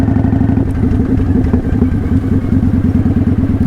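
A motorcycle engine chugs steadily at low revs as the rider shifts gears, a loud, close rhythmic putter that holds even throughout with no talking.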